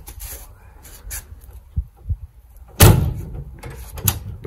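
The worn, misaligned door of an MGB GT V8 under restoration is moved, giving a few soft thumps and a heavier knock, close by in a quiet workshop.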